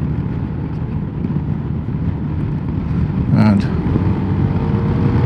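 A 2022 Zontes 310M scooter cruises in eco mode on a dual carriageway, its steady engine drone and wind rumble continuous, with a brief voice heard over it.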